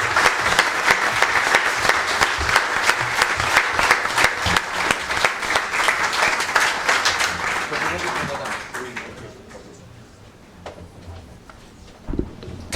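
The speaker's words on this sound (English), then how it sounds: "can we all give Kun Thanathorn a warm round of applause, please?" An audience at an evening press-club talk applauds warmly after the guest speaker is introduced, loud dense clapping that tapers off and fades into quiet room tone near the end.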